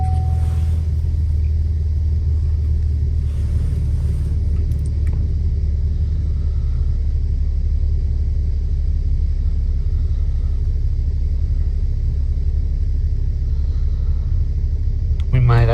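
A 2014 Chevy Impala engine idles after being restarted, a loud, steady low rumble running the whole time with a brief rise near the start, while people talk over it.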